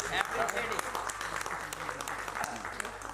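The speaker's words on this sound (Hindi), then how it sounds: "भाई ताली बजा देने के लिए।" An audience claps at a Hindi religious discourse, the applause loud and irregular with speech mixed in throughout the short burst.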